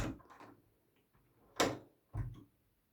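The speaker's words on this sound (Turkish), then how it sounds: "bak kapıyı açtı" A house cat pushes a door open, making a couple of soft thuds and creaks, with two distinct knocks close together near the end of a quiet room.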